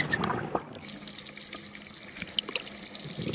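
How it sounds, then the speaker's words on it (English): Tiny pincered zooplankton shrimp on a Raja Ampat reef in Indonesia crackle underwater as a dense, continuous fizz of faint clicks and pops, heard close through water with no voices. "If you put your ear under the water, hold your breath, and you hear the crackling sound."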